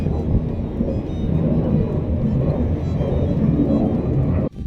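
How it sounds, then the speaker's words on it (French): Military fighter jets passing over Okinawa near an American base, a loud, steady low roar that fills the whole clip without a break, then cuts off sharply near the end. "il y a un avion qui passe comme par hasard. C'est des avions de chasse."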